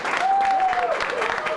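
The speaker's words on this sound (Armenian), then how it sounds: "Եվ ուղղակի բոլորով եկեք ծափարենք և շնորհավորենք։" An audience claps together at a celebratory charity television program, a dense, steady wash of applause with a faint whistle-like tone running through it.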